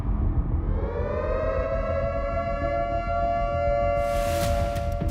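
An Indian civil defense siren wails steadily with a sustained, slowly wavering tone over a low rumble, loud and continuous, with a brief hiss near the end.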